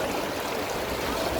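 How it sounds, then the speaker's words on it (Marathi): Floodwater pours hard through the streets of a flooded village during the monsoon, producing a steady, dense, close rushing roar with no break. "अरे इकडं पाण्याचा स्लोप बघा किती, एवढं जोरात चालू आहे पाणी."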